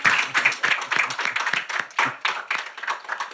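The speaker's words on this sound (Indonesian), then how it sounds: "Tepuk tangan buat Mbak Im Wong." An audience at a talk show taping claps for a guest, a lively burst of distinct, fairly close hand claps with a quick uneven rhythm and no talking.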